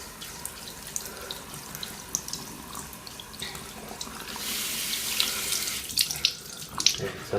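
A tap runs steadily into a sink while a part is scrubbed clean with soap and water. The water splashes and hisses, growing louder and more spattering toward the end, and no one speaks.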